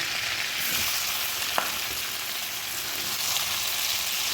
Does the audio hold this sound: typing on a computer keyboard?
no